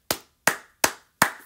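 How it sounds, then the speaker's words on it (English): Four sharp, evenly spaced hand claps ring out close and dry in a quick, steady rhythm with no other sound around them. "Round of applause"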